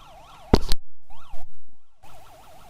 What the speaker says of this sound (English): turn the lights on, turn the sirens on.